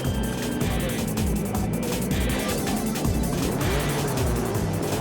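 Formula 1600 race cars roar off the start at Killarney in a dense, continuous wall of engine noise, several cars revving hard and close together throughout.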